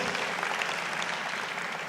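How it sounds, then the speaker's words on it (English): A graduation ceremony crowd claps in a brief, even wash of applause, steady and fairly close, with no voices over it. "Can we give them a round of applause?"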